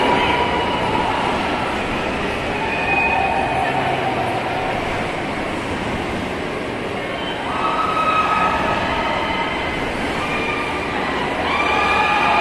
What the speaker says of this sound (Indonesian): naik kereta api